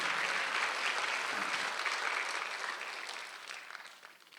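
Congregation clapping during a Sunday worship service at a Korean church, a steady broadband wash of applause that gradually fades toward the end with no voices over it.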